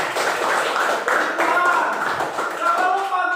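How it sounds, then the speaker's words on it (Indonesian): A class claps hands together in a steady, dense burst of applause during a lesson, mixed with some voices, lasting throughout. "Oke, tepuk tangan dulu untuk kita semua."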